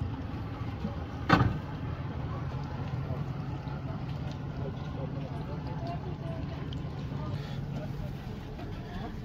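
A motorboat engine drones steadily throughout a boat ride at a Maldives resort, with one brief sharp knock early on and faint voices in the background.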